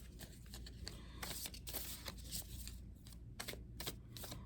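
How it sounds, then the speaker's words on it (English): Wandering Star tarot cards being shuffled by hand, a quiet series of rapid riffling and flicking bursts with short pauses between, faint and close. "Let me shuffle a little bit."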